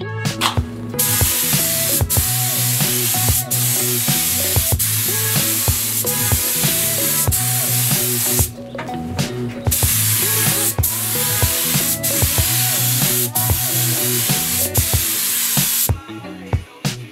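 Spray gun applying thick PVA mold release over a waxed fiberglass mold, a loud, steady hiss in long continuous passes broken by brief pauses, close and alone.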